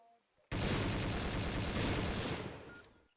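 Sustained burst of rapid automatic gunfire in the war video game Conflict: Desert Storm, loud and dense, starting abruptly and rattling continuously for about two and a half seconds before tapering off.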